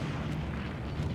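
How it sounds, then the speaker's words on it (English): Artillery shells land near Carentan Causeway in the Hell Let Loose war game, a heavy continuous low rumble of nearby explosions with no clear gaps between them. "We should be able to see artillery hitting pretty close to Carantan Causeway here, I would imagine, from the Helios artillery."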